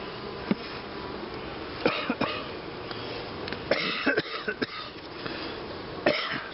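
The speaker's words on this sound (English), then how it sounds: "Sorry for the cough." A man coughs several times in short bursts while working outdoors at beehives during a hive inspection, with sharp close coughs scattered over faint background buzzing and hiss.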